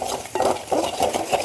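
A utensil stirs and sautés chili powder and turmeric in a pan for fish curry, with close, rhythmic scraping strokes repeating about every third of a second.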